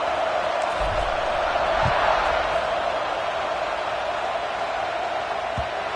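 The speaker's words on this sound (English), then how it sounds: "this crowd is buzzing after that last score." Crowd at a football game keeps up a steady, broad murmur of noise through the stands, with faint thumps and no distinct cheers rising above it.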